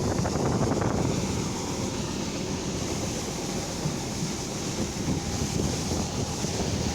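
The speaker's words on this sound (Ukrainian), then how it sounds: "Вітер взагалі не дає знімати відео." Strong wind blasts into the microphone in an open wheat field at harvest, a loud, constant roaring rumble with no pauses that runs the whole time and masks any other sound.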